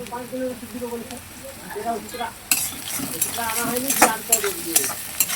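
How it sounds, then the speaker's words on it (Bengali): Chopped onions with a pinch of salt fry in a pan while a spoon stirs them, giving a steady sizzle broken by scraping strokes that grow louder and busier halfway through, with a faint voice early on. "এখন পেঁয়াজ দেওয়া আছে, একটুখানি লবণ দিয়ে দিব"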